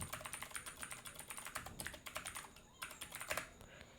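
Close-up clicking of a computer keyboard as an email address is entered in a sign-up form. Quick, uneven runs of keystrokes continue for about four seconds with a brief pause, quiet and with no talking.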